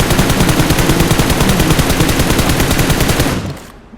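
Rapid automatic gunfire in a video game fires as a loud, continuous burst of closely spaced shots, then cuts off and fades in the final half second.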